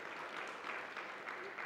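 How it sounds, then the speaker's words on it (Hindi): An audience at a media wing conference valedictory session claps steadily in a dense, even patter, fairly faint and distant, throughout the short stretch. "भले ताली बजाओ, अच्छी बात।"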